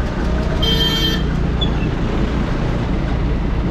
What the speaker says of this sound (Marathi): अशी काहीतरी रेल्वे चालली भावांनो आपल्या पाठीमागं